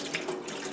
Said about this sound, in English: It takes a little while for the water to start pushing its way through the mask.